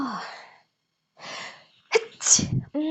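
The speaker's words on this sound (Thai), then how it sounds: "ขออภัยนะคะแม่หมอจาม" A woman lets out a single sharp, loud sneeze with a quick inhale before it, set between stretches of her own speech.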